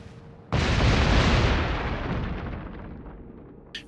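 A warship's big guns fire in the naval video game World of Warships: one huge booming salvo bursts in after a quiet moment, then rumbles and fades slowly over several seconds, with a brief high blip at the end.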